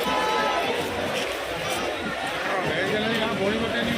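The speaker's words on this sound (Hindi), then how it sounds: "ज़बरदस्त भीड़ है मार्केट में।" A busy crowd fills the Ajmer Dargah Bazar market, a dense continuous hubbub of many overlapping voices and footsteps, with no pauses.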